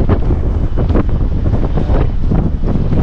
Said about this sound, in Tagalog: Lakas ng hangin, ang lamig